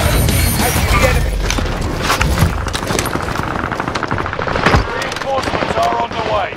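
Dense gunfire in a shooter game, with rapid automatic bursts and heavy booms rolling almost without a break, loud and close. Voice callouts come in over the shooting.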